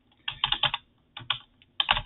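Keys clatter on a computer keyboard in the Emacs editor, three quick bursts of close, crisp clicks separated by brief pauses.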